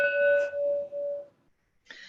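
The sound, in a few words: bell being rung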